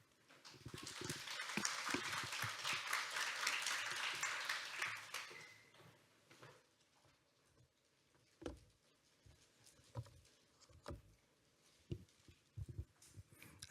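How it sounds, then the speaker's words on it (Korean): Seminar audience in a lecture room on secondary batteries applauds to welcome a speaker. Moderate, fairly distant clapping lasts about five seconds and then stops, followed by scattered thumps and handling noises in a quiet room. "오늘 강의를 해주실 최병진 전문위원님을 큰 박수로 모시겠습니다."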